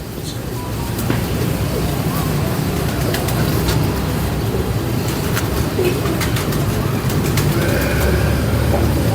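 Ferozpuri pigeons, large birds with compact bodies, coo and flutter in a loft, giving a dense, steady bed of low cooing with occasional sharper calls throughout, loud and close, with a little traffic noise behind.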